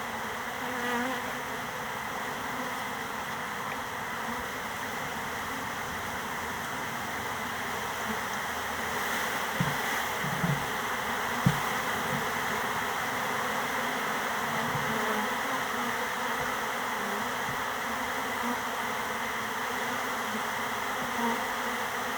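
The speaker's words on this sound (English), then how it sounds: "wait till you see how many bees I pull out of here" A swarm of feral honeybees packed inside a hollowed giant cactus gives a dense, steady buzzing drone that fills the whole stretch, close and constant, with a few faint knocks and handling sounds midway.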